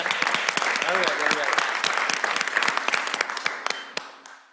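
Audience applause at a Chicago Public Schools board business meeting, a dense, steady burst of many hands clapping that carries on for several seconds before tapering off, with a few voices mixed in underneath.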